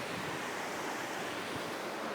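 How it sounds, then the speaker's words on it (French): Small stream of running water, a steady broadband rush and wash with a faint windy edge, continuous and close, no voices. "donc un ruisseau comme celui-là."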